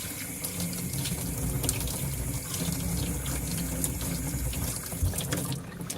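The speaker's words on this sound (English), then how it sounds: "I just need to make sure that I do a really good job of rinsing all of the soap out so that I don't have a soapy brush" Running tap water pours steadily into a sink while soap is rinsed out of a paintbrush, making a constant even splashing rush at moderate, close level.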